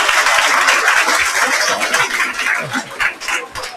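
An audience breaks into sustained clapping for a sub-inspector exam rank holder, a dense, steady patter of many hands up close that thins slightly toward the end.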